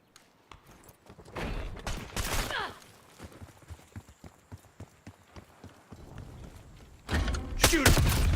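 Submachine gun fire in a video game rattles out as a run of rapid, evenly spaced shots, with louder dense bursts before and after it.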